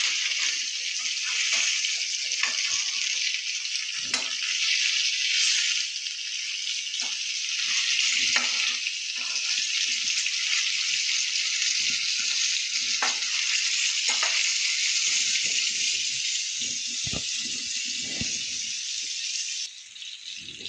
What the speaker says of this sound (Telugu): అలాగే 2 పక్కల వేపుకుంటూ తిప్పుకోవాలి.